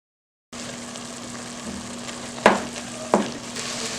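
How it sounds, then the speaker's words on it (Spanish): Vegetables and ground meat sizzle steadily in a pan as the filling for a stovetop meat lasagna, with a constant close frying hiss and two or three sharper clinks of stirring near the end. "Ya solamente voy a esperar a que se sofría un poquito y listo, apagamos."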